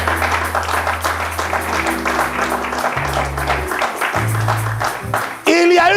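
A church congregation applauds and cheers the Lord, with rhythmic clapping and crowd noise blended with loud worship music and voices throughout.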